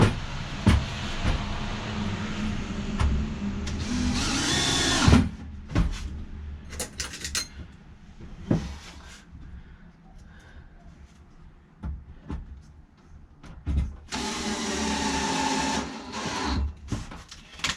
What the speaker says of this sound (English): I'll fasten down the piano hinges and then we'll fold it up.